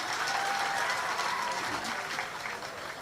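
An audience applauds at a Hindi poetry recital, or kavi sammelan, with dense, steady clapping from a crowd that fades slightly toward the end. No one speaks over it.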